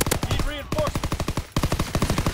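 Rapid automatic gunfire in a video game while a player pre-fires around a corner, fast regular shots in a few quick bursts separated by brief gaps, close and punchy.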